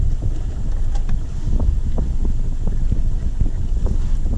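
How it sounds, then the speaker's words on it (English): Steady wind buffets a fishing boat on a river, a continuous low rumble of gusts across the microphone with faint water sounds, no talking. "The wind is wanting to blow us upstream."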